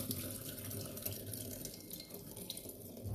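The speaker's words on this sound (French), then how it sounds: "Donc je vais les égoutter tout de suite." Soaked rice noodles for pad thai drain in a sink, with steady running and splashing water flowing continuously and fairly close, no voices.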